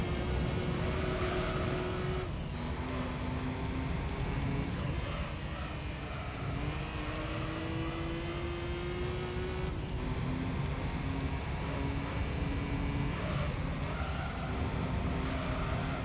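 A race car engine revs steadily at mid RPM before launch in Gran Turismo 3, a sustained buzzing drone with rising and falling pitch sweeps, heard alongside a talking voice.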